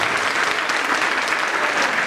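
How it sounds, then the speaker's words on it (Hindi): Dense, steady applause from an audience at an opening ceremony, a continuous clatter of many hands clapping fairly close with no pause throughout. "तालियों को थोड़ा जान लगे"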